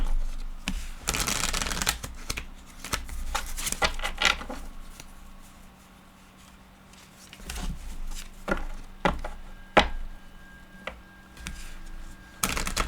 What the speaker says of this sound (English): Let me pick out two cards at my Angel Answers Oracle deck.